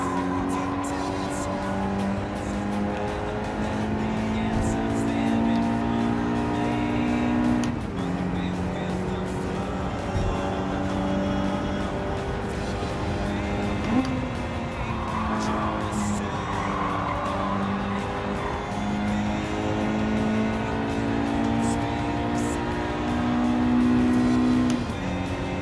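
A race car's engine drones and shifts pitch as it speeds around a track in Gran Turismo 7, with occasional tire squeal, steady and moderately loud throughout the lap.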